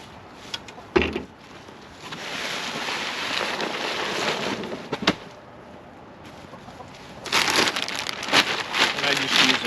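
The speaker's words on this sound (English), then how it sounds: "And we'll put some fresh shavings down." Fresh pine shavings spread across the floor of a backyard chicken coop, a steady dry rustle and crinkle with a few sharp thumps, hens clucking nearby and brief voices.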